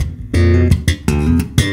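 Slap bass groove, the second bar of a funky pattern: a quick run of punchy thumb slaps and sharp popped notes with percussive ghost notes between them, close and loud, with no talking.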